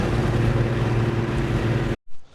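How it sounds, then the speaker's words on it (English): A Pontiac Fiero with a supercharged 3800 V6 and a 5-speed manual drives along, its engine a loud, steady drone with road noise inside the cabin. The sound cuts off abruptly near the end. "So here we are today in a 5-speed V6 supercharged Fiero."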